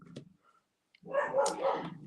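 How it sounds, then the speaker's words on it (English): A dog barks outside, a single short yelp followed after a pause by a louder burst of rough barking, alone and moderately close. "Someone's outside, so a dog's barking."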